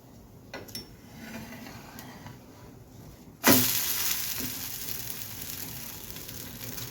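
Onion dosa made from Balamrutham flour frying in a pan, a faint low sizzle that jumps to a loud, steady hiss midway, likely as it is flipped, with a couple of light clinks before.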